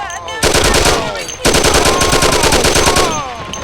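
Loud, rapid machine-gun fire rattles in continuous bursts during a shootout in the PC game Mafia, with one short break before the firing resumes, close and dominant.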